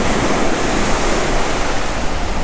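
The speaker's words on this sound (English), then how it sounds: "Right here you can find some waves here for boogie boarding" Ocean surf breaking on an Oahu beach used for boogie boarding, a loud, steady wash of crashing waves and roaring foam with wind noise over the microphone, no voices.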